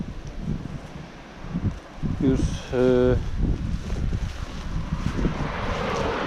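Wind buffets the microphone with a steady rumbling roar outdoors while a person speaks briefly and a brief vocal sound cuts through.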